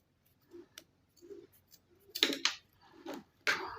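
Scissors cutting out fabric for a cowl bubu with a ruched centre front: a few short, crisp snipping strokes in an uneven rhythm, close and fairly quiet, with faint low handling noise between cuts.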